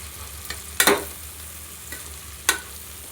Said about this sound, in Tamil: உங்களுக்கு தேவைக்கு அளவான இஞ்சி பூண்டு பேஸ்ட்டு சேர்த்துருங்க.